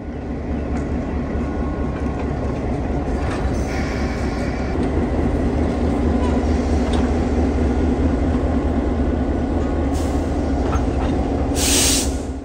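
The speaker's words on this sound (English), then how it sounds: "the locomotive slowly crawls its way off the turntable and" A Norfolk Southern locomotive crawls slowly off a turntable onto track at a rail shop: a steady loud rumble of engine and rolling wheels throughout, with faint metallic squeals and clanks rising near the end.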